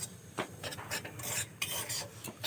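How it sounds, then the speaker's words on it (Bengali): Dry semolina being stirred as it roasts in a pan over low-medium gas heat, heard as a series of close, gritty scraping and rasping strokes with brief pauses between them, no voices. "দেখো, সুজিটা একটু ভালো করে একটু ভেজে নিতে হবে"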